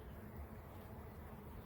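A faint, steady insect buzz of honeybees around a hive while a new queen is introduced, like many bees droning, soft and unbroken throughout.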